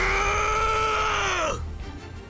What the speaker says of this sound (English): His second roar makes Asuka freeze up for a moment.